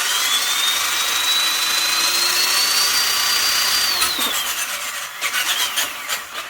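An RC crawler truck's electric motor runs in second gear with a high, steady whine that rises slightly in pitch, then drops away as the motor slows near the end, leaving clicks and rattles.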